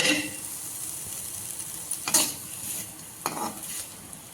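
Chicken fries in oil in a kadai for a chicken pickle, giving a steady close sizzle with a few louder scrapes and clinks from stirring.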